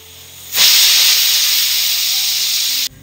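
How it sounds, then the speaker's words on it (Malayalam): A pressure cooker cooking onions on a medium flame lets off a single loud, steady hiss of steam for a little over two seconds, starting abruptly and cutting off sharply. "ഇപ്പോൾ 1 വിസിൽ കേട്ടതിന് ശേഷം ദ ഫ്ലെയിം ഓഫാക്കി കൊടുത്തു."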